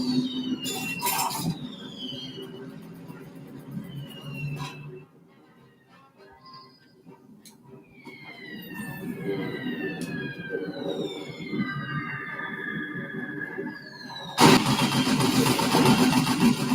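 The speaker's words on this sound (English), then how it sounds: "Air raid sirens, that's not good." Air raid sirens in the video game Assassin's Creed Syndicate, rising and falling wails that repeat across the scene, mixed with rumbling engines and bursts of noise, loud and close.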